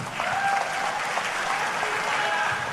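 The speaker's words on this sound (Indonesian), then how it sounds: "Bapak, Ibu-Ibu, tepuk tangan buat Pak Menkyu." An audience at a finance minister's public address breaks into applause, a thick wash of clapping hands with faint voices murmuring underneath.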